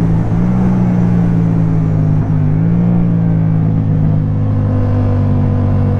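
A motorcycle engine, from an MT-07 or R6 ride, pulls away and accelerates with a loud, steady droning hum and rising tone, heard close throughout over rushing wind.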